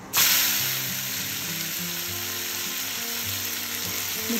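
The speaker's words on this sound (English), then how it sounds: "I'm going to add in 4 chopped onions and 2 chopped green chilies in this." Chopped onions and green chilies hit hot oil in a pan with a loud burst of sizzling that settles into a steady, close frying hiss with light stirring underneath.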